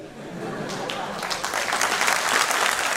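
An auditorium audience at an academic year inauguration claps steadily, the applause swelling louder over three seconds, dense and close, with some voices faintly mixed in.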